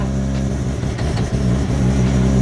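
A bridgeport-ported rotary engine in a car with a replaced carburetor idles and revs up close, giving a loud, continuous, buzzy drone with slight rises in pitch.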